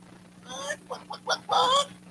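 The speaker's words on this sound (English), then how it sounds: "Chicken." A chicken clucks in a short burst of choppy, rising calls, close and fairly loud, ending in a longer squawk over a low steady hum.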